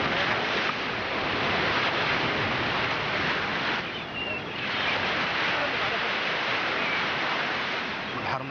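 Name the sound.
sea waves on the shore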